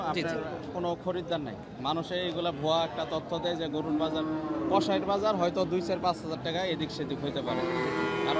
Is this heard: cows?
yes